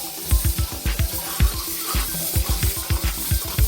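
Chopped leeks being washed in water, a quick rhythmic run of sloshing splashes and knocks, like hands churning them in a bowl or sink, close and fairly loud, no voices.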